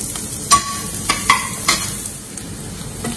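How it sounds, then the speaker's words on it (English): Onions sautéing briefly in a pan, a soft continuous sizzle broken by a few sharp stirring scrapes and clinks, close up with no talk. "we have to add onions, saute the onion just for a minute"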